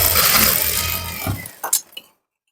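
A sewing machine stitches piping onto a neckline with a double stitch, giving a steady close mechanical whir for about a second and a half before it stops, followed by a few light clicks and clinks and then silence.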